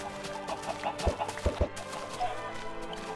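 Minecraft chickens cluck softly in a game scene, with a few short clucks and a couple of sharp thumps over a faint background of steady game sound.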